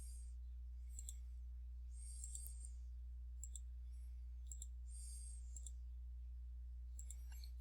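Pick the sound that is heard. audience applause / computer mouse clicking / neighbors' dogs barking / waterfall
computer mouse clicking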